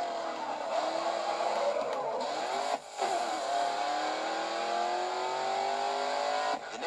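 A race car in Grid 2 drifting through a corner, its engine revving high and shifting pitch with tire squeal, loud and continuous apart from one brief dip, with no voices.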